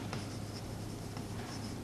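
Chalk writing on a board during an algebraic geometry lecture, several soft taps and scratches over a steady low room hum, with a sharper stroke near the end.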